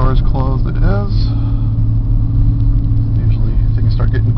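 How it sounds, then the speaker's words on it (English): BMW car engine idling while warming up in sub-zero cold, a steady low rumbling hum close by, with someone talking over it at the start and briefly near the end. "Gently warm the car up."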